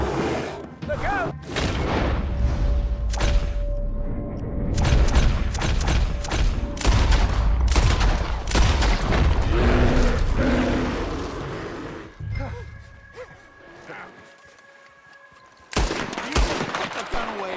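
Red Dead Redemption 2 gameplay with bursts of gunfire, booms and thuds coming in rapid volleys, then a quieter stretch and a final loud blast, with characters shouting over the shots.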